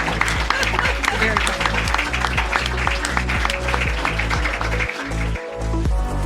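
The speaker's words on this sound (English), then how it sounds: "Can we give her a round of Thank applause?" Audience applause closing a podcast interview on scripture and theology with a guest, a steady wash of clapping running the whole stretch under strong musical tones.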